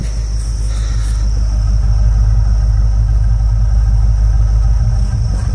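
Land Rover engine idling smoothly and loud up close, a dense, steady low rumble with a faint high whine above it and no variation in pace.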